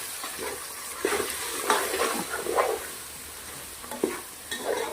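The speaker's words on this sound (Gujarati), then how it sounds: "મસાલા નાખ્યા પછી સરસ મિક્સ કરી દેવાનું છે" Spices being stirred into masala pulao in a pan, a soft scraping stir with light sizzling frying underneath, several close strokes in an irregular rhythm and no voices.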